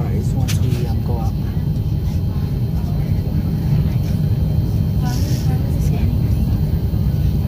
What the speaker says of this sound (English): our plane is about to fly